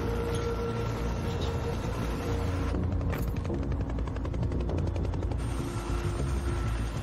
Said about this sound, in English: There's a chopper.